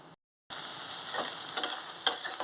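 Brinjal pieces fry in a pan with garlic and dry red chili powder. After a brief silent gap, a soft, close sizzle sets in, broken by a few light stirring clicks.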